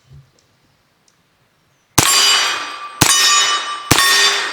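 An empty SGM Tactical magazine drops free from an FX-9 pistol after a quiet pause, landing with three bright metallic clangs about a second apart, each ringing out and decaying, close and loud.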